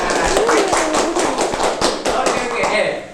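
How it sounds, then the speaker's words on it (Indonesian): A small group claps in quick, uneven rhythm for a broadcasting lecturer being introduced on a school talk show, while a voice speaks over the clapping. "Tepuk tangan."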